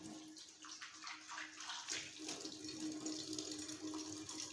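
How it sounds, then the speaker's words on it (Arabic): Tap water runs steadily into a sink as a dish is rinsed after washing with homemade orange-peel liquid soap, a continuous close splashing rush with some irregular spattering. "هنشطفها اهي."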